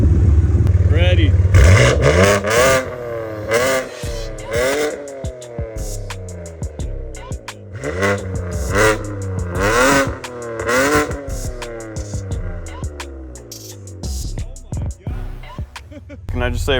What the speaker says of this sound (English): All right, let's see what this can do with revs. Let's see what it sounds like.